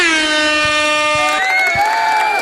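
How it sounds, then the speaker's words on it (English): A loud, sustained air horn blares at full volume, then wavers and fades a little near the end. "Oh, you got an air horn?"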